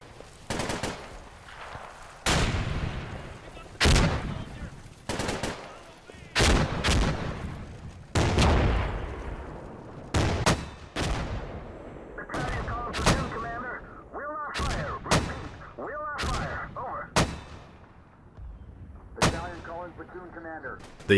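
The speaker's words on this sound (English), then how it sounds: "the tanks laying down suppressive fire on the hotel to keep the enemy machine guns at bay" Tank cannon and machine-gun fire in the Combat Mission Fortress Italy wargame, a hotel under suppressive fire: repeated sharp, loud gunshot bursts and booms at irregular intervals, with rattling automatic fire and whistling tones between blasts.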